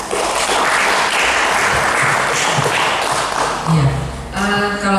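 Applause from an audience at a treasury capacity-building session in Merauke, a dense burst of clapping that fills the room, with a voice speaking briefly toward the end.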